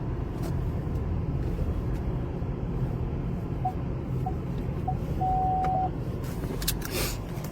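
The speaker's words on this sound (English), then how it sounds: "Just gotta park my car real fast." A car is being parked: a low, steady engine and road rumble runs throughout while a few short electronic beeps sound, ending in one longer tone.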